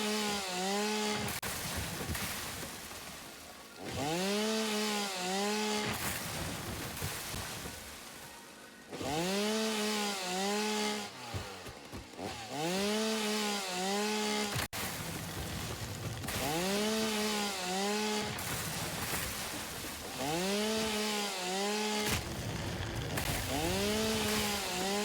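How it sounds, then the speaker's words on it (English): A chainsaw cuts down trees in a video game, revving in long, loud, steady bursts that return roughly every five seconds with short dips between them. "I should be able to use this fuel for the chainsaw as well"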